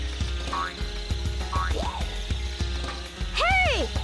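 A frog in the Dreamcast game Sonic Adventure, during Tails's story, gives a run of ratcheting, croaking calls, and the run ends in a burst of bright, swooping electronic chirps, with no talk.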